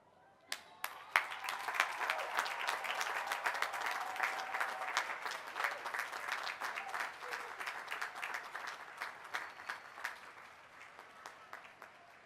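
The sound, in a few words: graduates' applause at a commencement ceremony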